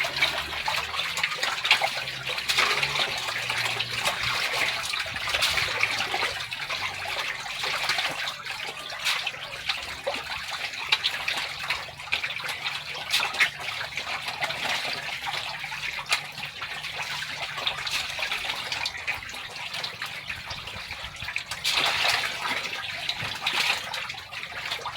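Flood water from heavy rain flows steadily near a fish farm, a continuous rushing, trickling wash that stays close and even throughout with no voices.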